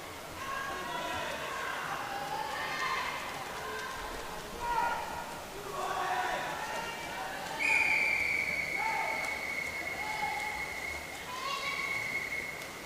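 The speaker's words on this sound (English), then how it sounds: "Callum Byrne hears the whistle telling him he's got 100 metres left." At an indoor pool during the Lancashire County Swimming Championships, a long steady whistle signals 100 metres left in a race, sounding midway and holding over a busy background of crowd noise and echoing chatter.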